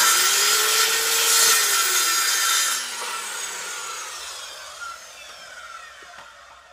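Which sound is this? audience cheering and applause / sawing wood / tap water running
sawing wood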